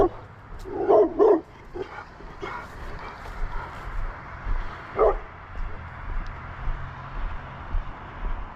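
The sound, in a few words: dog barking behind a gate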